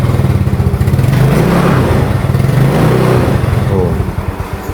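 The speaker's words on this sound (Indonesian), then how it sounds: "kalau mau di starter suaranya masih aslinya, knalpotnya masih aslinya tuh kan" A stock-exhaust Yamaha Mio Sporty 2008 scooter engine runs loud and close, a steady low putter with a slight rise partway, while some voice-like sound mixes in over it.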